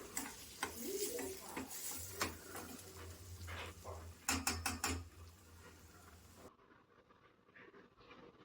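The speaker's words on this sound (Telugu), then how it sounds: "ఆనియన్స్ అనేది బాగా ఫ్రై అయిపోయింది." Onions frying in a pan for a pesara vadiyalu pulusu, sizzling steadily with scraping stirs and clinks of a spoon, plus a low rumble, before the sound drops away near the end.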